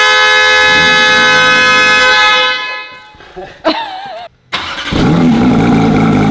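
Wrecked 2024 Porsche GT3 RS engine cranking and catching close by, a loud harmonic whine that fades out, then a brief rising rev, a short dropout and a strong roar as it fires up; no speech.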